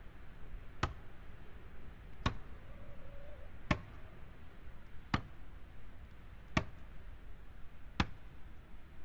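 A tool chops steadily in the survival game EDENGRAD, six sharp strikes evenly spaced about one and a half seconds apart over a soft ambient bed.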